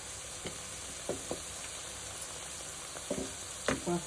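Food fries gently in oil in a pan while chicken with turmeric is cooked into a leafy vegetable curry. A faint steady sizzle is broken by a few soft stirring knocks and scrapes.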